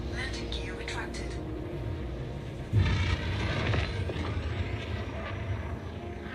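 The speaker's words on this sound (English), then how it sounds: "Landing gear retracted." Spaceship landing gear retracting in Elite Dangerous Odyssey: a steady, loud engine drone with a sudden mechanical thump partway through, followed by a heavier rumbling hum.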